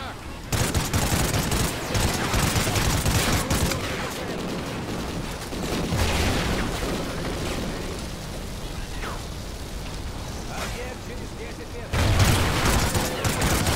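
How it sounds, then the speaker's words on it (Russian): Sustained gunfire crackles through a Call of Duty: Ghosts match, with dense, rapid bursts of shots and heavy, rumbling blasts continuing almost without a break, and voices occasionally heard beneath the din. "Тихо, тихо, кто по мне стреляет?"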